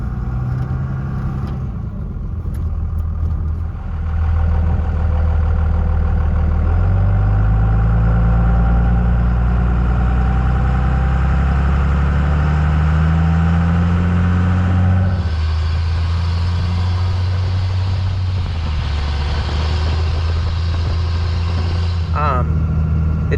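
Diesel pickup truck idling with an open exhaust that ends at the resonator and has no muffler or tailpipe, a steady loud low rumble throughout, with brief shifts in pitch and someone talking over it.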